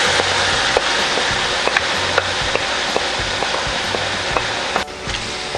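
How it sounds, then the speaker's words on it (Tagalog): Tomato sauce goes into goat kaldereta already sizzling in a pan, giving a loud, steady sizzle with faint scraping stir clicks throughout and no talking. "Ngayon po ay isusunod na natin ang ating tomato sauce"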